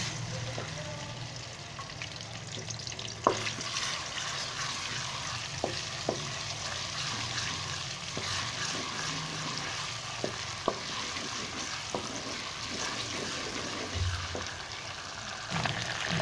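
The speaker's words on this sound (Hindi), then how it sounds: "इसको अच्छी से मैं फ्राई करके जैसे लहसुन कच्चापन ख़त्म होता है" Ginger and garlic paste fries in a pan for a chicken qurma, giving a steady, even sizzle with occasional sharp clicks from stirring, no voices.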